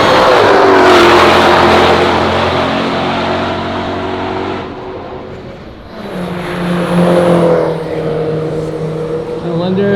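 Race cars, including a Porsche 997 GT3, run on the track with loud engine roar and droning revs, the pitch rising and falling as they pass and accelerate, with talking over the engine noise.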